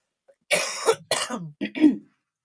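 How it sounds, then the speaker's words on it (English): Several harsh coughs in quick succession, close and loud, with short pauses between bursts and no other sound around them. "I'm going to cough again."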